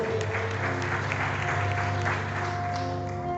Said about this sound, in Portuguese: Uma salva de palmas ao nosso Jesus